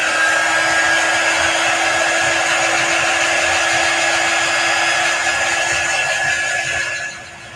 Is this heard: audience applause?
no